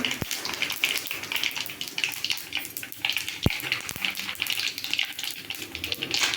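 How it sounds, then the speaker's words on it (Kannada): Cumin seeds frying for raw mango chitranna give a dense, continuous crackle and sizzle in the pan, with a few sharp pops standing out from the hiss. "ಚಟಪಟ ಅಂತ ಐತೆ ನೋಡಿ ಸಾ ಜೀರಿಗೆ"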